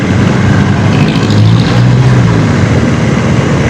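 KTM RC390 motorcycle engine while riding, a loud, continuous drone with steady pitch and strong wind rush, heard close up and alone.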